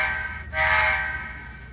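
A model train whistle sounds in a sustained, tonal blast with steady harmonic bands, rising in strength after a short gap and holding nearly to the end over a low rumble.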